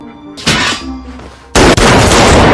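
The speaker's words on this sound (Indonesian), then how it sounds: "Richie menembak lebih dulu tetapi meleset, sementara tembakan Perancis mengenai leher Richie dan langsung menewaskannya" Loud gunfire in a crime film about an old tailor facing the mafia: a sharp blast, then a second, heavier shot that carries on into a long, dense roar.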